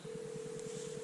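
An iPhone phone app plays its outgoing-call dialing tone, a steady faint pulsing beep sequence with a sustained hum underneath, heard alone.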